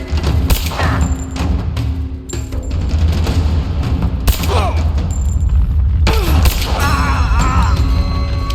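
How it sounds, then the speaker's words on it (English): A grenade explodes in Rise of the Tomb Raider amid a busy game battle, with a heavy thud among repeated gunfire, impacts and mechanical clatter, while voices shout over the loud, dense mix. "Light her up! Throwing a grenade!"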